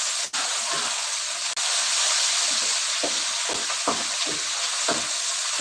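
Food frying in a pan during home cooking of squid in oyster sauce and nuggets, a continuous bright sizzle and hiss with scattered pops and clicks, fairly close, with no voices.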